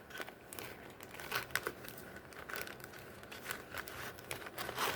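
A plastic Ziploc bag crinkles and rustles as pinch pot clay gnomes made of air dry clay slide inside, a faint close-up crackling in uneven bursts with no talking.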